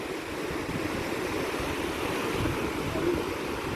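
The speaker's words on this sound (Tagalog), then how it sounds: "lakas ng alon" Strong ocean surf churning under gusty wind at a beach, a continuous rushing wash of waves with wind buffeting the microphone, steady and fairly loud with no voices.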